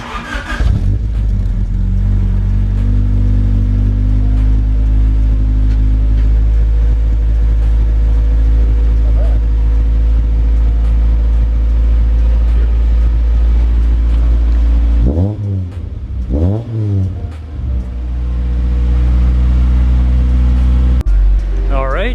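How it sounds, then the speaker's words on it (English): Honda Civic Si with a newly installed exhaust, idling with a deep steady drone before two sharp rev bursts climb and fall, then settling back to a low idle, loud and close. "we'll give you those nice revs"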